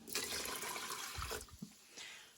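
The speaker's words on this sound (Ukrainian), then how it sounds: "Рис промила, пересипала в чашу мультиварки, склянка рису, дві склянки води." Water is poured from a glass into a multicooker bowl holding rinsed rice, making a steady splashing rush for about a second and a half. A few soft knocks and a fainter trickle follow, close up and with no talking.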